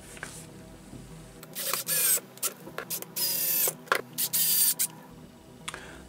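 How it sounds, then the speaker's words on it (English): Self-tapping 3x10 and 3x12 screws are driven to fit an underplate on a Tamiya ORV RC chassis, giving close clicking and ratcheting bursts of plastic-on-screw noise in several short runs with quiet gaps between them. "just fit this underplate on here, and it just goes on with the 3x10 self-tapping screws"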